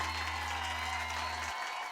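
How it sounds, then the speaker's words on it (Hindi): Party guests give a round of applause for a poem, a steady burst of clapping heard for the whole moment, with a low hum that cuts off partway through. "लेकिन आज आपकी इस कविता के लिए हम जोरदार तालियां"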